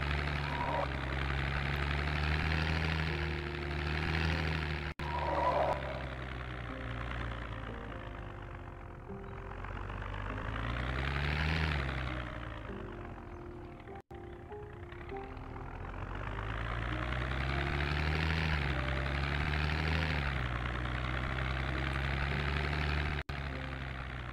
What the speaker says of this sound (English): it was absolutely a chopper.